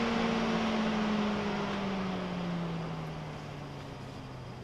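A Fan-Tastic RV ceiling vent fan exhausts air with a steady close whoosh and a low hum whose pitch slides gently downward as the whole sound slowly softens.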